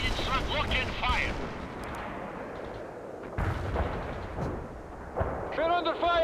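Heavy artillery booms and gunfire crack and rumble in a World in Conflict battle, with repeated blasts and a decaying roar between them and radio-style unit voices calling out over the combat.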